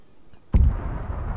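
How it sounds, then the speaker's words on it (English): A sudden loud explosion in the video game ARMA 3, one heavy boom with a deep rumbling tail that lingers for about a second, near and alone. "oh, there's a nice explosion"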